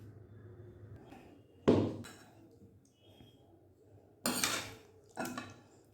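A pot of aloo dum lifted off the stove, heard as a few sharp metallic clanks and scrapes of the vessel against the burner, loud and close, separated by a quiet kitchen hum.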